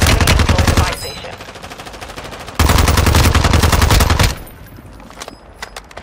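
Rapid automatic gunfire in Call of Duty Warzone from a 9mm weapon, loud and close, coming in two sustained bursts with a brief lull between them before it fades off.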